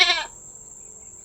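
A goat gives a single short, loud, close bleat with a wavering tone, then falls silent apart from a faint steady hum behind it.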